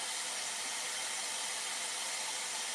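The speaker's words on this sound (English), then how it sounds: "you could do this with a regular hair dryer and a brush" Steady, even whoosh of a hair dryer blowing continuously at close range, with no breaks or talking.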